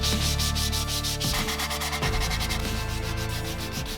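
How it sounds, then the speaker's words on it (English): Continuous scratchy rubbing of sandpaper on wood, close and steady in back-and-forth strokes. "Now that we've done a bunch of sanding"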